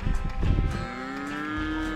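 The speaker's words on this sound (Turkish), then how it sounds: "Bu inekleri içeri sokacakmış teyze." A cow moos loudly and close, a long drawn-out call with rising pitch, as a woman herds cattle inside at a nature park campsite amid rustling and movement noise.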